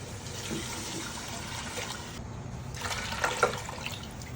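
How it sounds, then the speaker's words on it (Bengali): Water poured into a cooking pan gives a steady close splashing trickle that swells briefly near the end, with no voices over it. "পানি দিয়ে দেবো।"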